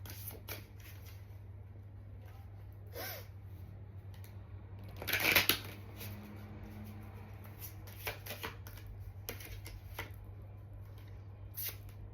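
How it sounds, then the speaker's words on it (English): Deck of cards being shuffled, a brief burst of riffling and flicking near the middle, quiet and close, with a few soft handling taps scattered around it over a steady low hum. "These cards are so hard to shuffle."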